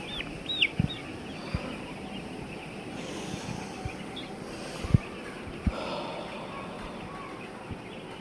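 Chickens on a poultry farm make low clucks and scattered calls over a steady background hum. Sharp knocks and clicks come now and then at close range.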